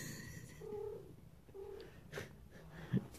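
A house cat makes soft, low, drawn-out purring and grumbling sounds in several short bursts, then a brief louder vocal note near the end, all quiet and close with no talk.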